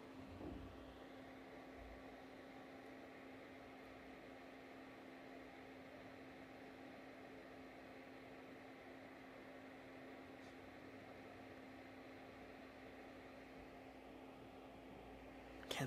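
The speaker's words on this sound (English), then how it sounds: "So fan noise kicked in, so let's hear it." Cooling fan of a Pixel C220 LED video light runs as a steady, quiet whir with a constant tonal hum, holding evenly for the whole stretch with no talking.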